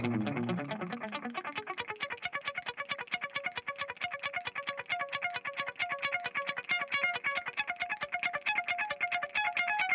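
An electric guitar note through an analog delay repeats in a steady, rapid train of echoes that stretch on without fading, sounding slightly dark and filtered.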